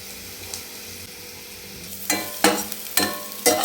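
Onions frying in a pan for egg kothu idly, a low sizzle that breaks into loud, close scraping stir strokes in a rough rhythm during the second half, with no talk.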